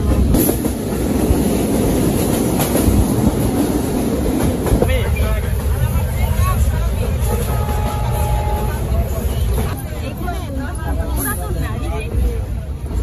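A packed passenger train rumbles along with a steady loud roar and rattle, and a crowd's chatter babbles throughout.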